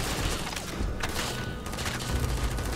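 Gunfire in the Starfield video game, a dense, steady rattle of shots and mechanical clatter that continues without a break at moderate loudness.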